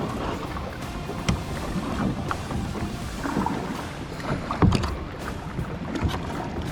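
River rapids heard from a kayak on a first kayaking trip: a steady, broad rush of moving water with wind and paddle or hull splashes nearby, continuous and moderately loud, with no talk.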